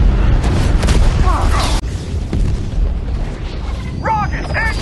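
Heavy booming rumble of bombs exploding during a bombing raid on Berlin in the series Masters of the Air, loud continuous low roar with a sharp thud partway through and faint voices beneath.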